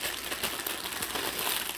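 Shredded teal paper from a dollar store crinkles and rustles as it is packed into a gift jar, a steady close crackling texture filling the short moment with no voices.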